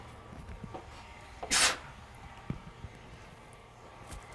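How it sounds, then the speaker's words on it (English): One sharp sneeze bursts out at close range in a quiet room, followed by a few faint knocks and rustles. "I'm gonna sneeze again."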